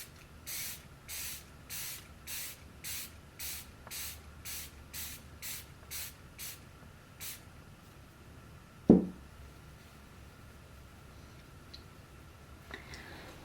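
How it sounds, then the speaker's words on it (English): Setting spray spritzed onto a face, a rapid run of about a dozen short, evenly spaced hissing bursts, followed by quiet and a single dull knock. "try spray this on just one side"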